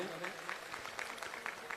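Applause for the Maharaj rises at a Hindu gathering, a dense crowd of clapping with scattered sharper claps, heard alongside speech over a loud, reverberant sound system.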